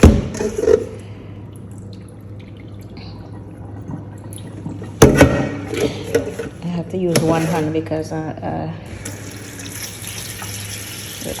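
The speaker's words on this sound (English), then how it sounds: "put fresh water in there." Fresh tap water runs into a bowl of callaloo greens, a close gushing stream with splashes and drips while someone talks over it.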